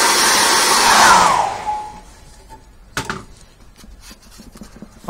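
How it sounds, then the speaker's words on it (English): A hair dryer blows loudly for under two seconds, then winds down and shuts off, followed by a couple of thumps and quiet handling noises. "I'm going to dry that off with a hairdryer"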